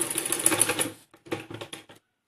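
A sewing machine stitches a simple salwar seam in a fast rattling burst, pauses briefly, then runs a second shorter burst of quick clattering strokes before stopping.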